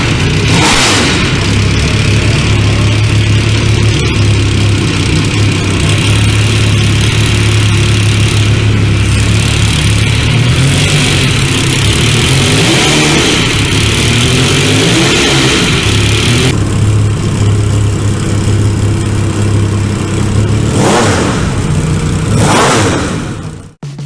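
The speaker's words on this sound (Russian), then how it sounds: "2442-кубовая V-образная шестерка с углом развала цилиндров 90 градусов, который выдает 240 лошадиных сил максимальной мощности" Motorcycle with a 2442 cc 90-degree V6 engine running loud and steady, its deep drone rising and falling as it revs, with no talking.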